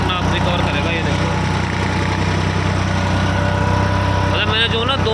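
A tractor engine runs steadily at about 1200–1300 rpm while pulling a tiller through a dry field, a constant low mechanical drone filling the whole clip with someone talking over it.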